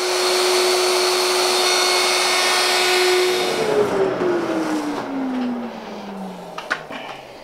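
A Festool router cuts a matched bullnose curve along the underside of a wooden board, a steady high-pitched whine that runs on, then spins down in a falling tone as the motor is switched off.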